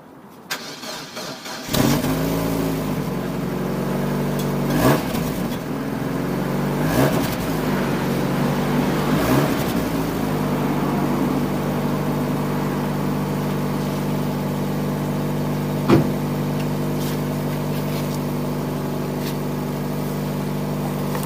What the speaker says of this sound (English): you can hear where the exhaust is blowing